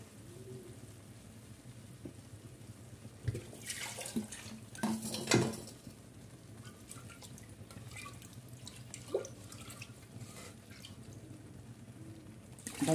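Water is poured into a cooking pot (handi) and swished by hand to rinse the inside while making kadhi, a faint splashing and trickling with a brief louder pour in the middle and a few drips, no talking.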